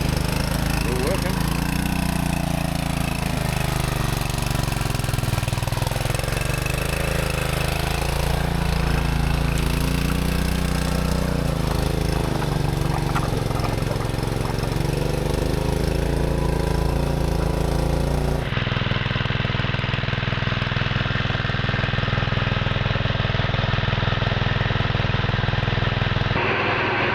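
A restored gold sluice pump engine runs steadily up close, a loud continuous mechanical drone with a low throbbing hum that holds for the whole stretch and shifts tone partway through.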